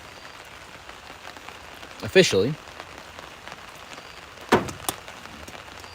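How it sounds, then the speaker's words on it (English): Moderate rain falls at an outdoor wiffle ball game, a steady soft patter throughout, with a commentator speaking briefly and a couple of louder sharp sounds breaking in. "the rain is coming, but very moderately, enough to get on your nerves"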